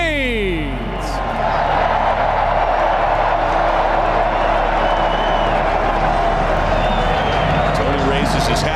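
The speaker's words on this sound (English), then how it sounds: "Tony raises his hat as everybody in Carter-Finley applauds" A stadium crowd at NC State's Carter-Finley applauds and cheers steadily for Tony Haynes, a dense, loud wash of clapping that swells after the first second and holds without a break.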